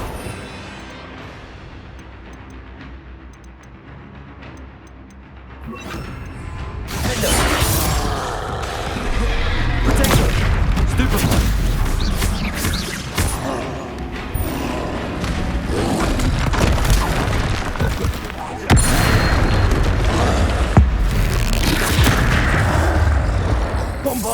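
Spell explosions from Bombarda and Confringo in the Hogwarts Legacy video game, dense and continuous booms and crashes after a quieter opening, loud and layered with game combat sounds.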